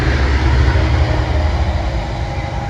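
A train rumbles steadily past on a rail track beside a carp fishery lake, a loud, continuous low roar that fades slightly toward the end.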